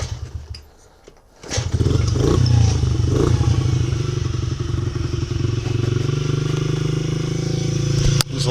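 A Honda XR50R/CRF50F small motorcycle engine runs with the choke off. After a brief lull it comes up and holds a steady, loud, buzzing idle, close by, with a sharp clack near the end.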